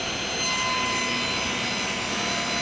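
A table saw with a rip jig cuts a small wood block, giving a steady, loud high-pitched whine and rasp of blade through wood that holds continuously from start to finish.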